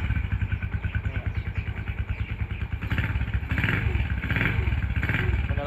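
Rusi 125 motorcycle engine idling close by, a steady rapid putter that rises a little louder and rougher partway through, as if lightly revved.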